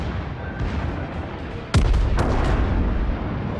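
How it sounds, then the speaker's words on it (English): Warship rear turrets firing in World of Warships, one loud sudden booming salvo with a second blast right after, over continuous low background rumble. "fire my back turrets here"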